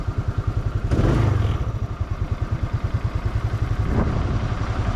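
A motorcycle engine on a trip through Vietnam runs with a rapid, even putter, then rises in two brief revs before settling back to a steady idle, close and fairly loud.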